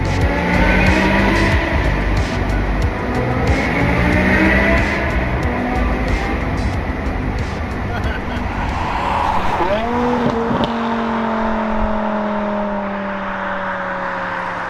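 A V10 BMW M6 roars loudly through a tunnel, revving hard with echoing exhaust, then a gear change and a sustained high rising engine note as it accelerates.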